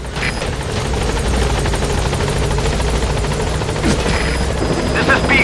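A helicopter arrives for extraction in Metal Gear Solid V, its steady rotor roar loud and continuous throughout, with a brief swell near the end.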